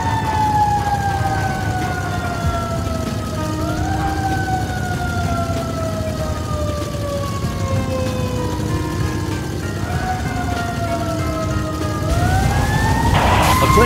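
Wailing fire truck siren from the Tonka Trucks Around Town video game, a loud continuous up-and-down sweeping tone that runs the whole time with a steady engine-like rumble beneath, swelling slightly louder near the end.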